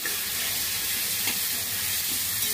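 Grated ginger frying in hot oil for a banana flower ghonto gives a steady, close sizzle with a faint stir partway through, unbroken and with no voices.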